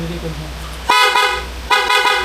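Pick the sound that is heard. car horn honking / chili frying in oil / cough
car horn honking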